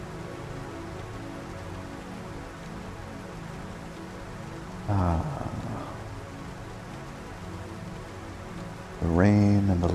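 Steady rain falls over a nighttime city in the Blade Runner video game, a dense continuous patter on surfaces with low ambient hum beneath, interrupted by two loud bursts of blaring sound around the middle and end.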